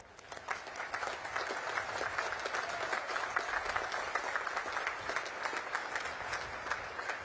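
An audience at a Naval Academy graduation ceremony applauds the distinguished graduates, a steady, even wash of many hands clapping heard from a distance, with no voices over it.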